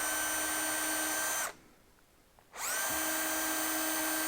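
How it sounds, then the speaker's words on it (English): Small electric drill boring into padauk wood, a loud steady high whine that cuts out for about a second and then spins back up to full speed, close and alone. "I'm not bad at holding a drill straight."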